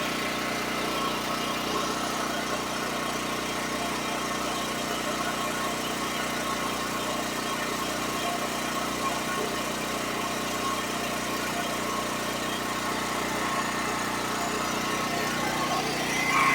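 A Duromax generator, sick and switched over to run on propane, drones at a steady idle throughout, an even mid-pitched engine hum with a faint vibrating rattle and no talk.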